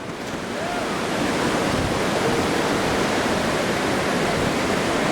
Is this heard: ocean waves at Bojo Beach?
yes